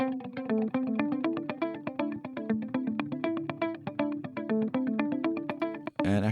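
Valhalla Supermassive delay plugin processing a plucked melodic line, repeating notes smearing into dense echoes at steady loudness, ending with a brief different burst at the close.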